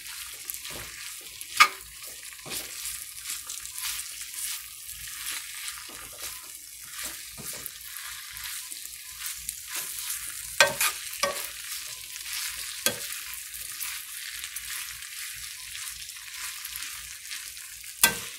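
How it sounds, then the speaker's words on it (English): Seasoned potatoes fry in a pan for breakfast burritos, crackling and popping continuously up close while a utensil stirs and scrapes through them in irregular strokes. "So we're going to put some of that right on those potatoes. And give it another stir."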